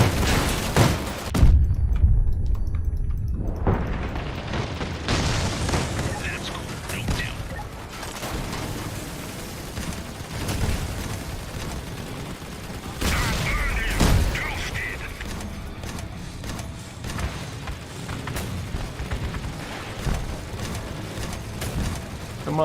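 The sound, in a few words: gunfire and explosions in a video game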